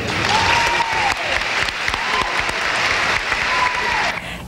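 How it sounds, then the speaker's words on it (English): A convention audience applauds and cheers for a diocesan delegation from Omaha, Nebraska, loud, sustained clapping with a brief dip near the middle and high whoops rising over the crowd noise. "There were cheers and applause for every group."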